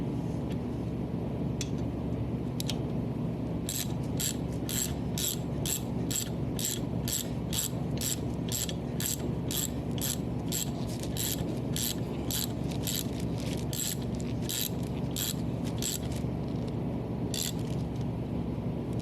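A ratchet tightens a brake caliper from a C3 Corvette, giving a close, rapid series of crisp clicking strokes in steady rhythm that pause briefly near the end, with no talk.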